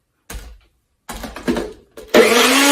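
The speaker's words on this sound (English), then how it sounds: "So I'm going to grind this up, blend this up." A blender runs on a protein drink mix with Formula 1 shake powder for cake pops, starting in short bursts and then settling into a loud, steady whir at the end.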